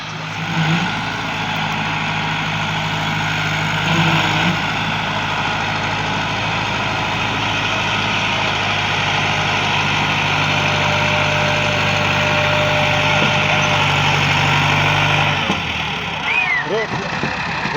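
A tractor engine idles with a steady low hum through a potato-loading job on a Punjab farm field, loud and continuous under people talking, before a brief shift near the end.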